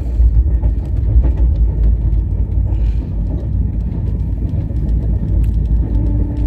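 Rajdhani Express running toward Asansol on the New Delhi to Sealdah route, heard from inside a 2AC coach as a heavy, continuous low rumble with faint rattles and clicks and no pauses.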